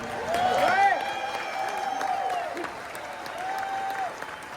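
Crowd at an Honor Flight arrival bursts into loud, sustained applause and cheering, with music and voices mixed into the steady roar throughout.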